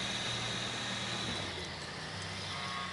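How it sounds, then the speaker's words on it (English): Tow truck engine in GTA Online, a loud, constant, rough rumbling drone with hissing noise over it, heard alone and close. "This tow truck is loud as hell."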